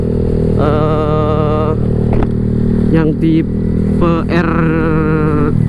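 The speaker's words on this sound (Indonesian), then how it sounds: "bunyi dari knalpot Black Devil nya yang tipe" Honda Vario 150 motorcycle fitted with a long Black Devil R2 exhaust, a loud close engine note rising in several throttle blips and revs over a steady idle rumble, with a voice talking over it.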